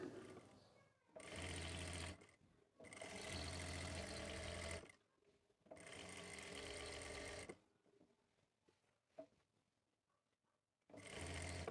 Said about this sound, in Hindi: यहाँ तक नीचे से लेके ऊपर तक सिलाई लगा लेंगे।